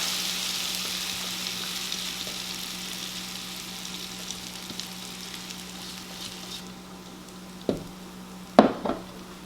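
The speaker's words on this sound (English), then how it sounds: "You want to hear it sizzle." Steady hissing sizzle of cornbread batter frying in a hot cast iron pan, continuous and close, followed by a few sharp clanks of cookware near the end.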